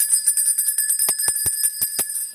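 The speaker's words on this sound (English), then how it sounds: "I'm going to ring the bell on that." A small handheld bell rung during a tarot card reading, struck in a quick series of about six bright metallic tings with sustained high ringing tones, clear and close with no talking.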